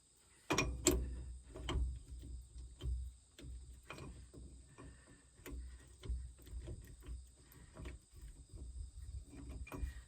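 Wrench clicks and metallic ratcheting on the rear wheel lock nut of a 1954 Metro, a series of close, uneven mechanical ticks and knocks with a loud initial crack, no talking.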